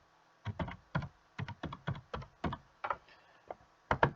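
Keys on a computer keyboard clack in quick, uneven clusters of close taps, like a name being typed into an online form, with no talking.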